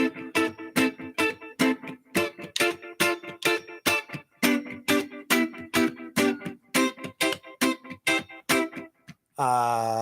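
Fast, steady guitar strumming of full open chords, about two strums per second, loud and close, ending with a brief swooping tone.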